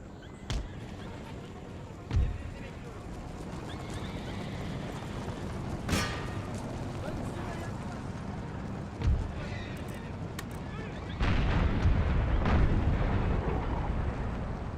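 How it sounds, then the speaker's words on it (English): Organ guns firing at will during an Empire: Total War battle, a few scattered booming volleys over a steady roar of battlefield ambience, the last blast swelling into a longer rumble. "Then my organ guns fire at will"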